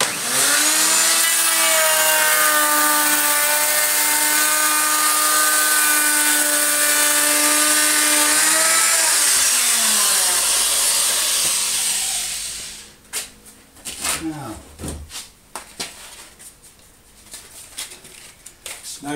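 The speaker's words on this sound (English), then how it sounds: "I set my router bit a little deeper to make sure I cut through both." A router with a sharp bit trims a glued Formica laminate strip, whining loud and steady for about twelve seconds before winding down, followed by scattered knocks and scraping handling noises.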